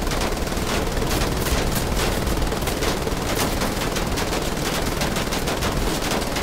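A minigun fires continuously in the shooter game Wolfenstein: The Old Blood, a loud, unbroken, dense rattle of rapid shots with no pauses and no voices.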